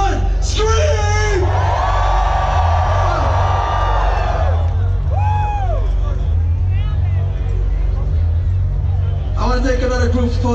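Festival crowd at EDC Las Vegas 2018 on the Circuit Grounds screaming, whooping and cheering loudly at a live electronic set, a dense sustained roar over thumping bass with amplified voice calls above it.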